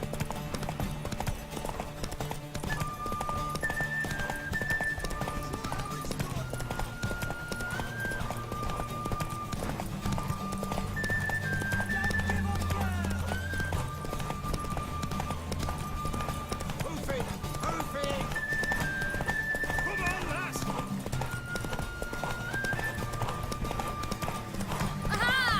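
Rhythmic hoofbeats of a galloping horse in The Witcher 3: Wild Hunt pound steadily throughout, with a melodic music line and occasional voices layered over them.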